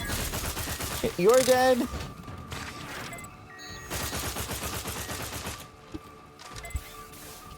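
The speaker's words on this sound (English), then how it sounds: "How many times do you have to shoot a bug? You've been given a gun!" Gunfire shooting a bug in The Outer Worlds, played on very hard difficulty: a dense burst of rapid shots around the second mark, then more scattered shots and clatter among game sounds, with a brief spoken line.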